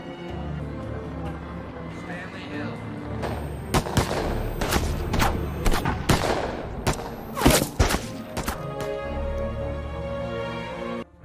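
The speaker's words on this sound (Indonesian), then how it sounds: "Stanley diberondong ratusan peluru yang menghujam" Police gunfire, hundreds of rounds poured at one man: dense bursts of rapid shots cracking and echoing, clustered in the middle stretch between quieter lulls, loud and close.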